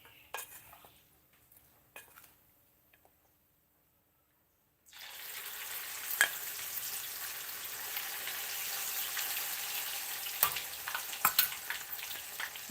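Small freshwater fish (pla siw) frying in hot oil: after a few quiet clinks, a loud, steady crackling sizzle starts abruptly and continues close up, with sharp pops and utensil taps.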